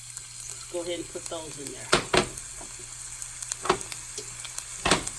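Onions sizzling and frying in oil in a pan for a brisket and jalapeño gravy, a steady crackle with a few sharper clinks of a utensil, while a person speaks briefly over it near the start.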